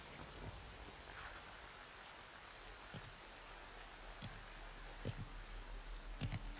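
Steady, soft rain in the video game Metal Gear Solid Delta: Snake Eater hisses continuously, with occasional distinct drops and taps landing nearby; faint and even throughout.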